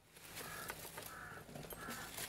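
Crows caw faintly in the distance outdoors after a typhoon, several short hoarse calls rising over a steady hiss of background noise.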